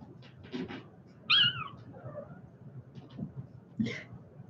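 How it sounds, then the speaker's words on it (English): A small kitten mews a few times, short high cries scattered over soft background rustling and faint handling noises, close by. "He's just meowing at her brother."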